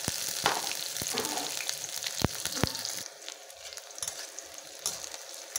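Chopped onion, garlic, nigella seeds and chillies fry in hot oil in a pan for a prawn-head mash, a soft crackling sizzle with a few sharp clicks of utensils, quieter toward the end, no talk.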